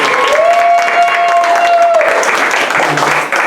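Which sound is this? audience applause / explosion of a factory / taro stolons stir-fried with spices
audience applause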